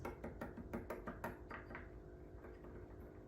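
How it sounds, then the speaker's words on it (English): A tiny whisk clatters rapidly against a small bowl while mixing a dry blackened Creole seasoning blend, with about eight quick metallic ticks in a steady rhythm that soften and trail off near the end, close and fairly quiet. "We've got our handy tiny whisk because everything's better with a tiny whisk"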